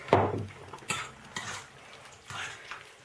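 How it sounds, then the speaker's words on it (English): Utensils clink and scrape against a pot in a few separate bursts, with quieter rustling stirring between them. "give it a good mix around"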